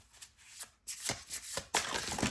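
A tarot deck is handled and cards spill out. Sharp riffling, flapping bursts of cards sliding and falling come in several quick clusters, close and fairly quiet, with no talking.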